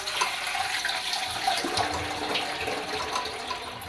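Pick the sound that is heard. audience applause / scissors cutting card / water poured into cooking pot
water poured into cooking pot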